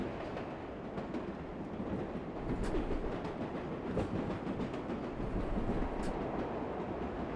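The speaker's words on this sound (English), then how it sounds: "We are on the number 7 line on the New York City subways" A New York City subway train on the number 7 line in the World of Subways 4 simulator rumbles steadily along, with soft clicks and rattles over a low continuous roar.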